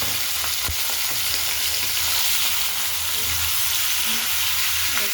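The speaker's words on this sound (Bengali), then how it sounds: "এই তো তেলের উপরে মাখানো মাংসগুলো দিয়ে দিব।" Marinated chicken pieces dropped into hot oil for a home-style Bengali chicken curry, giving a loud, steady broadband sizzle with a few spatula scrapes and clicks, close up and continuous without talk.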